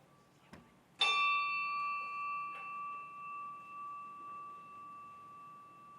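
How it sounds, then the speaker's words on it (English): A single bell is struck once at a meeting, ringing out clearly and then sustaining a long, slowly fading tone in a quiet room, preceded by a faint knock. "I will now chime the bell"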